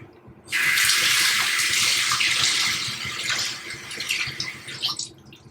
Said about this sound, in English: Then I give it a rinse.